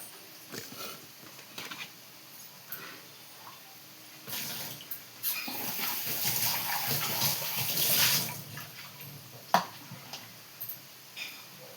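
Water pouring from a home water filter into a cooking vessel, a soft splashing flow that swells for several seconds mid-clip between quieter drips and clinks, heard alone without talk.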